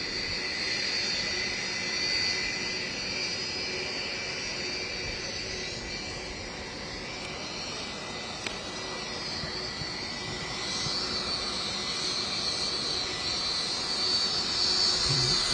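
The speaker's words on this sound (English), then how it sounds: "Trump Force One just recently went through a cosmetic makeover. Beautiful paint scheme on this aircraft" Trump Force One, a jet aircraft on an active runway, produces a steady loud engine whine and roar that holds evenly throughout, heard from nearby with no speech.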